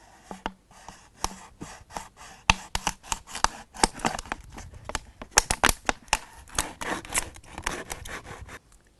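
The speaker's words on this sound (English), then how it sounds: "With a knife, I cut at the second ring of the bottle." A knife saws through a plastic bottle at its second ring, giving a dense run of crisp, close crackling scrapes and snaps that grows busier and louder toward the end.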